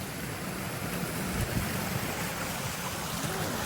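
A forest waterfall flows in a low, steady wash of water, moderately faint and continuous, with no one talking.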